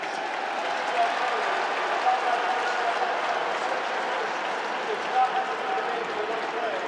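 Football players on the Liberty Flames sideline clap during a Syracuse vs Liberty college football game, steady applause blending into the broad stadium crowd noise, with a commentator talking over it throughout.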